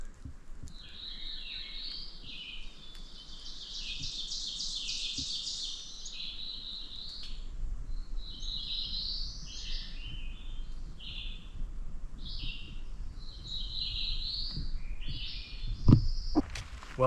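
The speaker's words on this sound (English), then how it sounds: "Listen to all those birds." Forest birds singing on a wooded trail in the White Mountains of New Hampshire, several overlapping high chirps and trills from moderate distance over soft outdoor background, with footsteps and rustling near the end.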